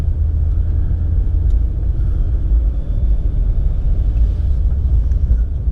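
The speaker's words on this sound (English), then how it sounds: "My car's tuned engine-wise, so I just started the car." Tuned BMW 335i E90 with automatic transmission idling just after a cold start, a steady loud low rumble that holds evenly throughout with no talking.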